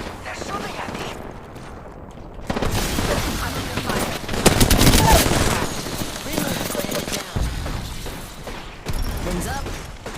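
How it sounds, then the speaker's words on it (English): Heavy enemy gunfire strikes the player's ship in a space combat video game, with rapid bursts of shots and booming impacts that swell loudly in the middle and come again near the end, while a voice talks over them. "They're shooting at me."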